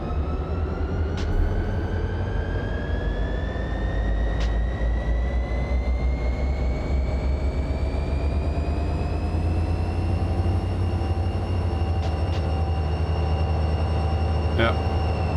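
Diesel locomotive engines in Run 8 Train Simulator throttling up together, a steady heavy drone with rising tonal whine that climbs slowly in pitch over several seconds, continuous and close.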